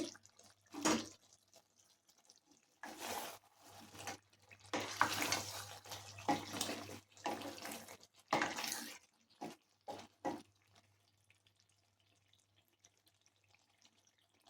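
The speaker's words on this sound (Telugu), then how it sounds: "నేను తగినంత వాటర్ వేసేస్తున్నానండి." Water is poured into a pot of chicken curry in several separate bursts of splashing and gurgling, close and fairly loud, with quiet pauses between the pours and no one speaking.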